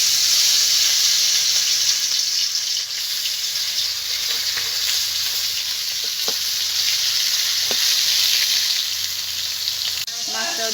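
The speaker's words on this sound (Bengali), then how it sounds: "এবার মাছটাকে আমি ভেজে নেব" Shol fish (snakehead) frying in hot oil, a loud continuous sizzle and hiss close up with a few brief clinks of a utensil against the pan.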